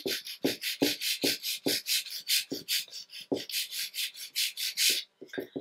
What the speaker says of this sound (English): we're going to go ahead and take a 240 grit file just for the sides